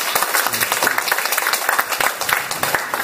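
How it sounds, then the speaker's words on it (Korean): Dense audience applause fills a Catholic priest's April 2018 lecture hall, steady and close with crisp overlapping claps throughout, a few voices faintly mixed in. "박수 쳐주셔야 돼요."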